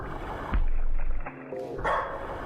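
A dog in the horror game Lost in Vivo gives a short, loud bark followed by a second yip-like bark, close and clear with no talking over it.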